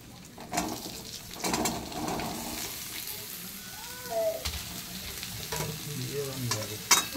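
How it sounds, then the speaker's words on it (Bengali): Potatoes fry in a wok after ginger, green chili and five-spice seeds, giving a soft continuous sizzle with a few sharper scrapes and knocks from stirring, heard close with no talking. "কড়াতে এবার আলু দেব।"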